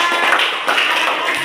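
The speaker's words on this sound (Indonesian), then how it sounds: "Tepuk tangan." Children in a classroom clapping their hands together, a brief burst of dense, close applause with no talking.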